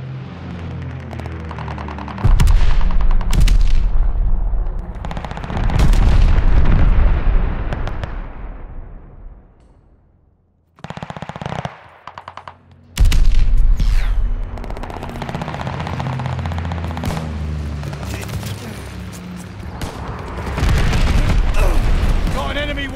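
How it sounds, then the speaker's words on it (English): Explosions from a bombing run and bursts of gunfire in the video game Call of Duty: Vanguard. Heavy blasts and rattling shots come in loud waves, separated by a brief near-silent gap, with in-game voices heard at times. "Allies called a bombing run."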